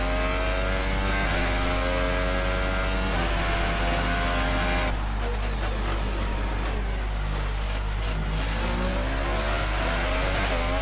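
A Williams Formula 1 car in the F1 2018 racing game at the Canadian Grand Prix gives a loud, continuous engine whine that shifts pitch midway as the car slides, with no talk over it.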